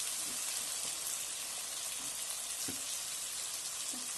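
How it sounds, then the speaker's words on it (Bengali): Pre-fried chicken pieces go into a pan of cooked-down masala for chicken biryani, giving a faint, steady sizzle with a few soft knocks from stirring. "এই মাংসটা ভাজাটা দিয়ে দিচ্ছি"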